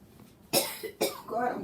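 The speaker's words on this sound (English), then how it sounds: "God, I'm going to be coughing." Two sharp, close coughs come in quick succession, each trailing into a rough throaty breath, set off by hot Congo pepper while cooking.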